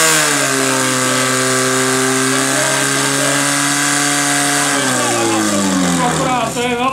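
A fire pump engine roars at full revs during a firefighting competition, a loud, steady, buzzing drone whose pitch dips slightly partway through and then sags near the end as the engine labours, with shouted voices over it.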